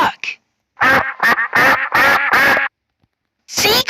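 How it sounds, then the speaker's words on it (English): A duck quacks loudly and close by in a rapid series of about seven harsh, nasal calls, followed by a short pause and then another burst. "Duck."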